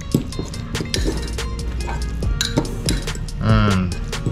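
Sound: mixing ingredients in a bowl

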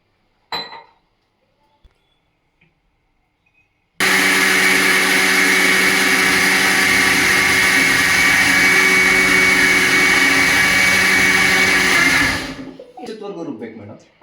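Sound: mixer grinder grinding soaked rice with water

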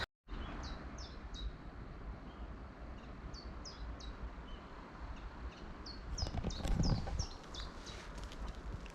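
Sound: birds calling near a river at the foothills

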